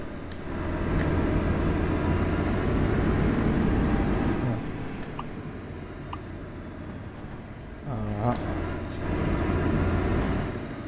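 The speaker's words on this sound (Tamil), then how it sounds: "வண்டி ஏற கஷ்டப்படுது." Truck engine straining uphill in Euro Truck Simulator 2, a loud heavy drone that dips midway, with a brief air-brake hiss and rising whine near the end.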